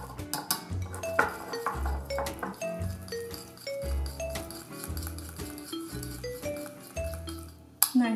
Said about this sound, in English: now you're gonna whisk that together until it's smooth